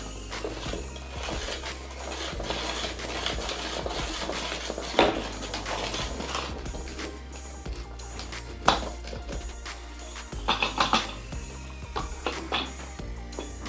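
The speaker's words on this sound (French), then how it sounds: "Et on remue." A spoon stirs bath bomb powder inside a small bath bomb machine, making irregular scraping and clattering with several louder knocks against the container, close and with no voices.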